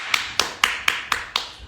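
Six sharp hand claps at a steady, even pace, each one crisp and close.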